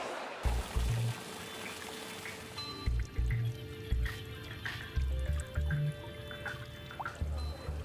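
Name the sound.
water flowing in a star-shaped garden water fountain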